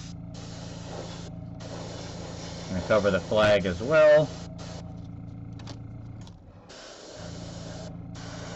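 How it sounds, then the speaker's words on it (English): Aerosol spray hiss applied at a 45-degree angle to a miniature figure for zenithal highlighting, a steady broad hiss running through most of the clip, briefly under a voice in the middle. "at our 45-degree angle, we're just going to give him a spray"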